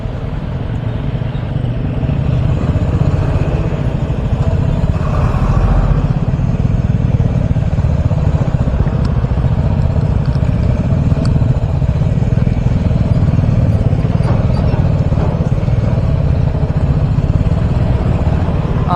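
A motorbike rides along the road from Siliguri toward Gangtok, past the Sevoke area before the hill climb, its engine a steady, loud, continuous drone with wind rumble throughout, no talking heard.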